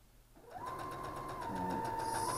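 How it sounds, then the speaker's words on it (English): A sewing machine starts up and stitches through fabric pieces of a star, a brief whirring hum that quickly rises to a steady, close stitching drone. "And sew all the way through."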